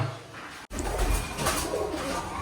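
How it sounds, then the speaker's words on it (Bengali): Pigeons coo near an open doorway of a home: a low, soft coo at the start, then a brief dropout, then a steady, noisy room background. "আরে দরজাটা লাগাও পায়রাগুলো আবার ভেতরে ঢুকে পড়বে"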